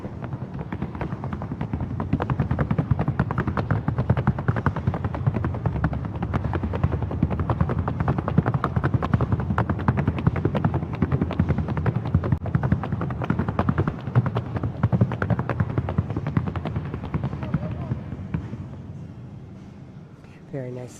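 A Paso Fino mare gaiting across a sound board at a horse association show in Asheville, her hooves a rapid, continuous drumming patter for about eighteen seconds before fading away.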